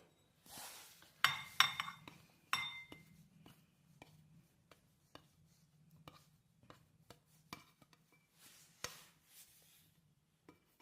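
A homemade snack is moved off a plate into a large cooking vessel, giving a string of sharp metallic clinks and scrapes of utensil on dishes, irregular and close, with quiet gaps between knocks.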